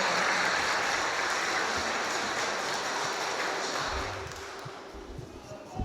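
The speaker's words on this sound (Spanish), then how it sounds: "Aplauso para los esposos." Wedding guests in Ameyaltepec applaud the newlyweds, a steady wash of crowd clapping in a reverberant space that thins and fades toward the end.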